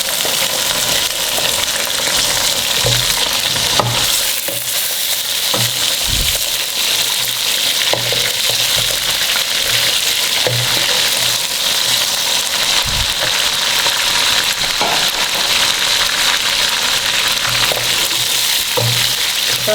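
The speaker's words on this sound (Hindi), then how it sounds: "इसके अंदर फ्राई हो जाए हमारा चिकन" Pieces of chicken for daleem sizzle loudly and steadily in hot oil, with occasional scraping and stirring knocks from a utensil, close and continuous.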